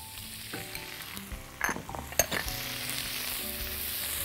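Chopped tomatoes sizzle and fry in a pan of onion, oil and bell pepper for shakshuka, a steady close crackle with a few louder stirring scrapes partway through.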